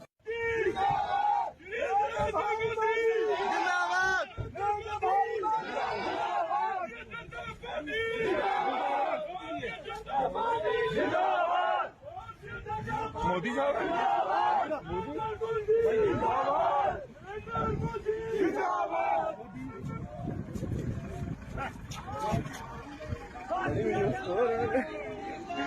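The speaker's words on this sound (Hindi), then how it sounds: "वो 26 सेकंड का वीडियो जिसमें नरेंद्र मोदी जिंदाबाद के नारे लगाए जाते हैं" A large crowd chanting 'Narendra Modi Zindabad', loud continuous shouted slogans and overlapping voices from many people, sustained throughout with brief dips.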